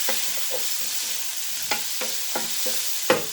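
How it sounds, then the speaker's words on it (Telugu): A jackfruit seed curry with dried prawns, tomato, salt and chili powder is stirred in a pan. A spoon scrapes in repeated close strokes over a soft steady sizzle. "రుచికి సరిపడా ఉప్పు, సరిపడా కారం వేసుకొని కలుపుకున్నామండి."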